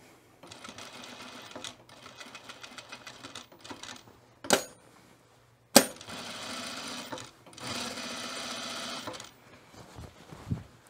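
A sewing machine quilting a puffer vest at a long stitch length runs in fast, steady bursts of stitching with brief pauses between runs, plus a couple of sharp clunks of handling in the middle.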